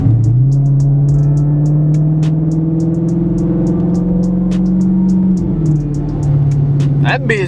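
A 2015 Dodge Charger R/T V8 drones steadily from inside the car while driving, a loud, even low rumble that sags slightly near the end, with faint clicks on top and no speech.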